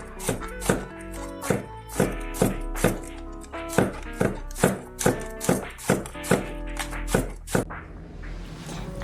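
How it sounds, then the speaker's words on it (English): Vegetables such as jalapeno and mushrooms being chopped on a board, a steady series of sharp knife knocks at an even rhythm, close and clear, slowing to a stop near the end. "So we're gonna start by prepping the vegetables."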